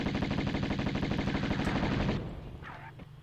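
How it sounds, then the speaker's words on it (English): Rapid dart gun fire in the Tomb Raider video game, a dense burst of repeated shots lasting about two seconds before cutting off into quieter game ambience. "He's shooting me with his dart gun."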